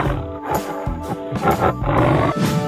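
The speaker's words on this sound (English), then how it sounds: "Tiger." A tiger in a 3D animal slide video game lets out deep, rough growling roars that rise and fall continuously across a few seconds, loud and close, with no speech.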